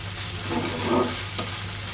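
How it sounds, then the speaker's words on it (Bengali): Okra and potatoes fry in a pan with very little oil, giving a low, soft sizzle that swells briefly in the middle, with a faint stir and a small clink near the end. "দুপুরে রান্না করছি আলু দিয়ে ঢেঁড়স ভাজি হচ্ছে"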